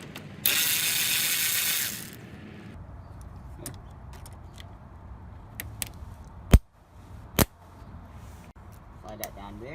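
A ratchet wrench loosens the mounting bolts of the AC compressor on a 2003-2007 Honda Accord. A loud, steady burst of fast ratcheting is followed by quieter clicks and two sharp metallic knocks in a garage.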